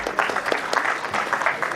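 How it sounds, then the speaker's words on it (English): Brief applause from a crowd at a two-day entrepreneurship and innovation conclave, even, moderately loud clapping with individual hand claps audible in the mix. "Let's welcome him with a big round of applause."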